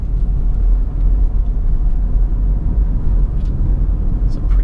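A Honda Civic Hybrid with a manual transmission coasts downhill, heard from inside as a steady low road rumble and tyre drone with little engine sound.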